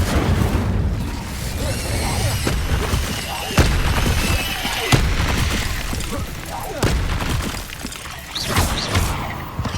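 Incendio fire spell cast in the video game Hogwarts Legacy, heard amid a stretch of repeated sharp cracks and booming bursts at irregular intervals, loud and close over a roaring background, with a voice talking over part of it.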